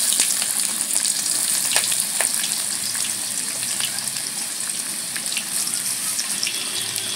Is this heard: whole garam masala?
yes